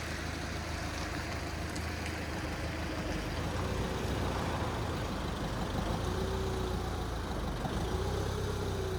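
A vehicle engine runs steadily while reversing into a parking spot at a heath car park, a low continuous idle-like drone with faint rising whines, no talk.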